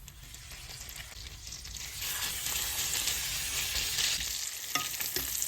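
Pork chops sizzle in butter and garlic in a stainless steel pan, a loud, steady, close frying hiss that swells slightly midway and continues throughout.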